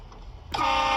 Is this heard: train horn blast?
yes